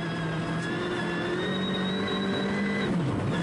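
A Ford Fiesta R5 rally car runs a special stage at the 2015 Liepaja Rally of the European Rally Championship, its engine a steady, moderately distant drone that holds its pitch and then falls away near the end.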